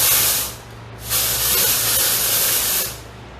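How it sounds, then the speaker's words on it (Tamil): Dry shampoo sprayed from an aerosol can onto hair: two close, loud hissing bursts, a short one and then a longer one after a brief pause. "ட்ரை ஷாம்பு யூஸ் பண்ணும்போது ஜஸ்ட் இந்த மாதிரி ஷேக் பண்ணிட்டு எங்கெல்லாம் வேணுமோ அங்கெல்லாம் வந்து நீங்க"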